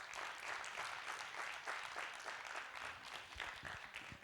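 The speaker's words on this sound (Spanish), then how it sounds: "Un aplauso para ella." A small conference workshop audience applauds a volunteer coming on stage, steady dense clapping from a modest crowd, heard faintly and continuously.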